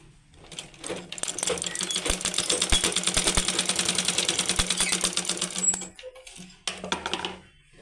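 A sewing machine stitches a blouse in a steady rapid mechanical rattle lasting about five seconds, then stops, with a few brief clicks and short bursts of running afterward.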